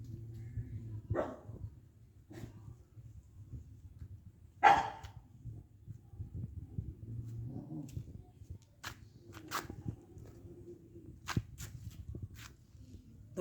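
Dogs give a few scattered, separate barks, one louder and closer than the rest, in a fairly quiet outdoor setting with faint movement and footsteps between them.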